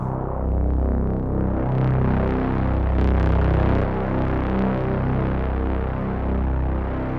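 A deep, steady monophonic synth bass drone, loud and slightly throbbing, with no voices.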